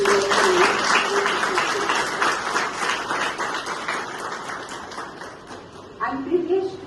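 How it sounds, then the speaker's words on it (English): Audience of law students applauding at a university address welcoming a guest, sustained clapping that gradually fades, with a voice speaking over it near the end. "a big round of applause to your"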